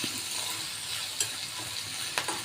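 A spoon stirs spicy ivy gourd curry with fresh curry leaves in a hot pan, giving a steady sizzle and frying hiss punctuated by a few sharp scraping clinks of the utensil.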